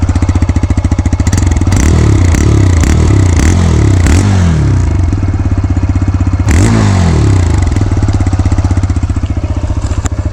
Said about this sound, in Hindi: सबसे पहले हम सुनते हैं इसका एग्जॉस्ट नोट